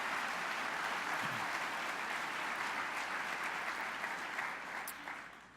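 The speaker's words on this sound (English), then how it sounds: "Let's give a big round of applause to everyone here who employs anyone" An audience at the TSTC 50 year celebration claps in sustained, dense applause, loud and steady before fading slightly at the end.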